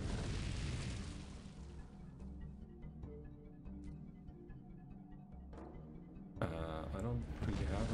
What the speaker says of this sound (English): Something is trying really fucking hard to shoot fire at us.